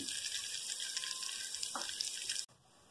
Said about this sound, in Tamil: அது எண்ணெயில பொரியும் போது நல்லா உப்பி பெருசா வரும்.